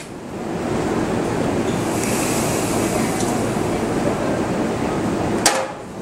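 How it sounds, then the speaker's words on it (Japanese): A Seibu train arriving for coupling at Hagiyama Station gives a steady loud rumble of wheels and motor on the rails, continuous throughout, with a sharp metallic clank near the end. "到着の電車は一旦止まりますが、連結作業のためもう一度動きます。"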